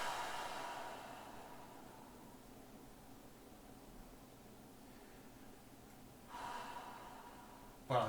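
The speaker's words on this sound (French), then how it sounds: "Et là, on va être sur 3 respirations profondes" Slow deep breaths during a floor back exercise, a soft breathy inhale or exhale at the start and another near the end, faint and close, with quiet in between.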